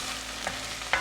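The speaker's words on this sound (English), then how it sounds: "Oh, it's already sizzling." Garlic frying in a pan while being stirred, a soft, steady sizzle close by with a couple of brief scraping clicks from the spoon, no talking.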